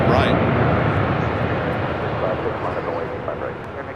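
A Boeing 747 taking off from runway 25 Right at LAX, a broad, loud roaring jet engine rumble that holds steady and slowly fades, heard from a distance, with a voice talking over it.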